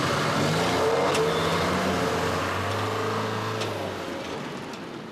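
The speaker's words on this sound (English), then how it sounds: "The 2 vans were driven out of Bates Road, along Church Road and into an adjacent industrial estate" Hijacked security vans driven away from Bates Road along Church Road, a steady engine roar accelerating and gradually fading as the vehicles pull off, fairly loud and alone.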